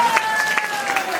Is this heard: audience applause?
yes